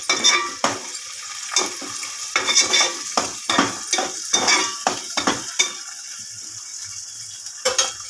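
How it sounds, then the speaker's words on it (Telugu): Curry leaves and chopped onions frying in a pan, with steady sizzling broken by repeated stirring and scraping strokes of a spoon against the pan, close and fairly loud. "కరివేపాకు, ఆనియన్స్, ఫ్రై చేస్తాం."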